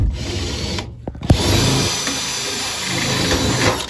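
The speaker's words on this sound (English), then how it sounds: "The drill bit. It's a Harbor Freight drill bit." A power drill with a Harbor Freight bit whirs steadily and loudly, briefly cutting out and restarting, then grinding on continuously with no voices.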